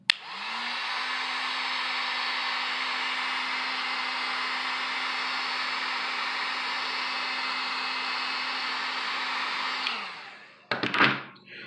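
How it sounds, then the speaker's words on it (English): Heat gun running on high while heating a sheet of EVA foam for cosplay forming: a loud, steady blowing whir held for about ten seconds, then cut off, followed by a few brief handling rustles. "just to show you how much this will flatten out with just 10 seconds of heat on high from a heat gun."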